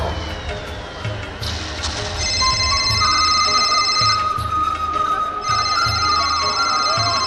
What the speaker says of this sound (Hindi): सर, फोन उठा लो, काफी देर से बज रहा है।